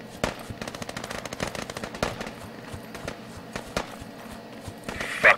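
Gunfire in the video game Squad, a rapid stream of automatic rifle bursts and individual shots rattling close by, with sharper cracks near the end and no speech over them.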